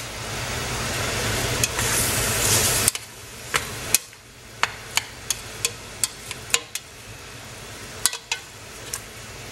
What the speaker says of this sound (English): now we're gonna mix all that in